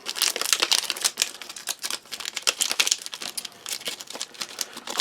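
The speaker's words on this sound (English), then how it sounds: "Just bring in my little friend, just to cut across the top." Knife slicing across the top of tough plastic packaging on a Polish Arpol off-road military ration of crispbreads: a close, steady run of crackling, crinkling rips.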